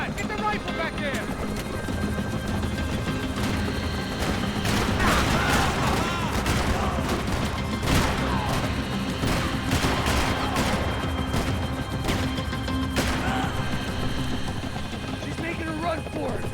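Dense gunfire in the video game Max Payne 3, with rapid overlapping shots over a constant rumble of helicopter-like noise and game voices shouting throughout.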